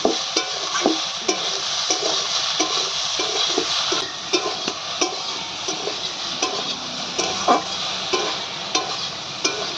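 Potatoes, soybean chunks and paneer frying with turmeric and salt in a pan, a loud close sizzle with regular rhythmic scrapes and knocks of a spoon stirring throughout, no speech.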